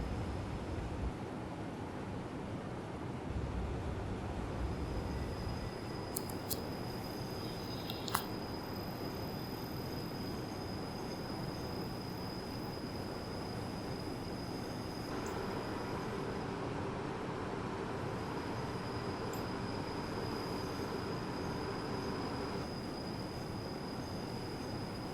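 A Rhaetian Railway train in Train Simulator on the Albula Line rolls steadily past, a continuous low rumble of wheels on track with a few faint squeals and clicks, no voices.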